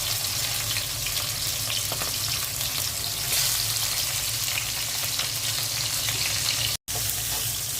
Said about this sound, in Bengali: কই মাছটা ভেজে নেব কই মাছগুলো দিয়ে দিচ্ছি